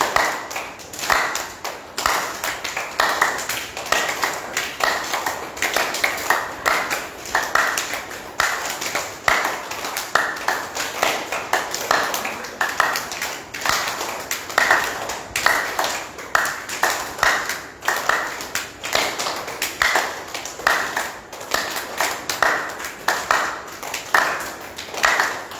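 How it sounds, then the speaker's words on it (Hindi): A yoga class claps hands loudly and steadily for over twenty seconds, a dense, rapid, continuous run of sharp claps from many people, close and strong with little talk. "या ताली जोरदार बजाइए।"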